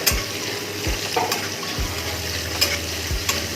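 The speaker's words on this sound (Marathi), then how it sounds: "यामध्ये आता मी कांदा टाकून देते. म्हणजे कांदा तोपर्यंत परतल" Onion sizzling in oil with curry leaves for sambar, a steady frying hiss with a few low thumps and scrapes of stirring, close and unaccompanied by speech.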